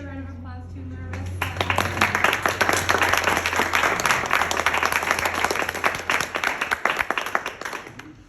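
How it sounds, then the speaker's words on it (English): Audience at a gallery artist talk breaking into applause after a brief spoken line, the clapping from a modest crowd swelling quickly and continuing steadily before tapering off. "Let's give another round of applause to Marissa."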